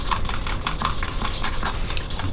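Paint being stirred and mixed for scenery weathering on a model railway layout, a steady close scraping swirl of brush or stick through wet paint running continuously without talk.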